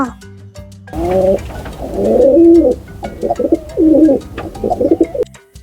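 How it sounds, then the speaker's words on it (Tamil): A pigeon coos close by in a series of soft, throaty, warbling phrases that rise and fall, with short gaps between them. "இது புறா."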